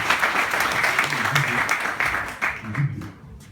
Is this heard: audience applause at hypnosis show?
yes